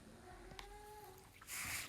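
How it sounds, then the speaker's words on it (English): A faint, thin cat meow drawn out over a quiet room, followed by a short burst of hissy noise. "She's meowing and meowing in the background."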